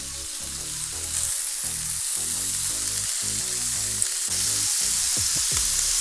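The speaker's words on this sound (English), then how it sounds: "Lay the bacon in there, bat the bacon." Bacon sizzles and spits steadily in butter in a hot pan, a dense continuous frying hiss with scattered pops that swells a little louder after the first second.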